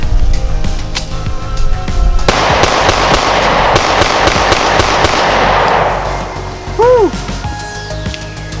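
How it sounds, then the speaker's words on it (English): Springfield Hellcat pistol firing steel-cased ammunition outdoors in wind: a rapid string of sharp shots echoing close and loud, followed by a few clinks and handling sounds. "I'm gonna load up 10 more, fire and see what happens."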